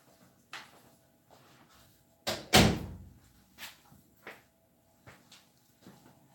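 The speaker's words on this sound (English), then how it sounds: "I'm going to shut this door before I forget to." An indoor door is pushed shut with one loud thud, and a few quieter knocks and bumps come before and after it in a quiet room.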